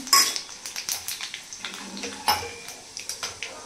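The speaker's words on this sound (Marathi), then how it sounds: "तेल तपलेलं आहे आणि आता आपल्याला थोडेसे खडे मसाले त्यात ॲड करायचे।" Whole spices, including bay leaves, cinnamon, cardamom and cumin, are dropped into hot oil in a pan. Quick clinks and taps sound close up, with a soft sizzle underneath throughout.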